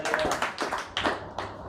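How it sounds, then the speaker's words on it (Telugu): A church congregation at Sunday prayer claps loudly in a steady, rhythmic beat of about six strong claps, close and unaccompanied by talk. "చప్పట్లు కొడుతూ గట్టిగా గట్టిగా"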